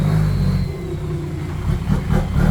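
A car engine rumbles and revs steadily, close and continuous, as the vehicle reverses slowly through a very narrow lane.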